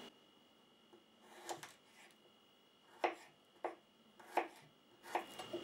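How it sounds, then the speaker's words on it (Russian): A knife chops garlic for pickled cucumbers, a few sharp, quiet taps on a board: one pair early, then a string of crisp strikes spaced about half a second apart, close and alone in a quiet room. "Режем чеснок."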